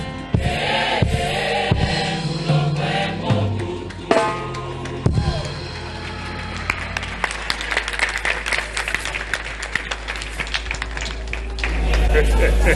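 A crowd applauds a chief at a political gathering. The clapping is loud and steady, with a few heavy thumps early on, and the applause rises again at the end.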